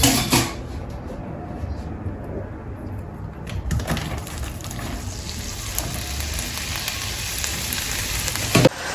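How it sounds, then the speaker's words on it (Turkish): Leeks frying in oil, a steady broadband sizzle throughout, close, with occasional clinks of a pan or utensil. "Şimdi pırasalarımızı şöyle zeytinyağında ya da normal bir yağda kızartıyoruz."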